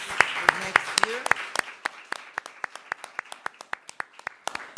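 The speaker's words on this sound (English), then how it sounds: "we give you an applause for next year" Sparse clapping from a small audience at an international ceremony in Budapest, with a few people talking over the first second before the claps thin into a slow, scattered series of single sharp hand claps.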